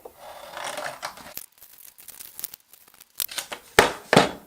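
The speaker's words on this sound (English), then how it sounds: "you need to get your scissors and cut it out." Scissors snipping through paper to cut out a Christmas tree shape, a run of short rasping crunches with pauses, the final few cuts louder and close by.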